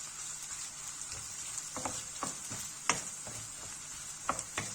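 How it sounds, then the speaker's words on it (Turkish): Boiled çaşır greens stirred in oil in a pan, a soft steady sizzle with scattered scraping clicks of the spoon against the pan, fairly quiet and close, with no talking. "Şimdi böyle bir iki dakika karıştırıyorum."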